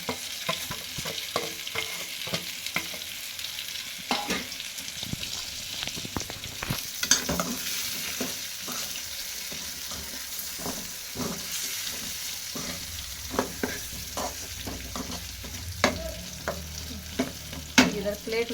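Ridge gourd curry with masala frying in oil keeps up a continuous sizzle, broken by frequent scraping stirs and clacks of a spoon against the pan, close and fairly loud, with no talking.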